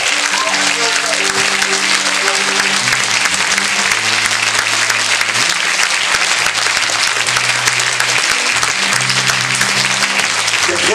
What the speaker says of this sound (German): Deswegen der allergrößte Applaus für euch.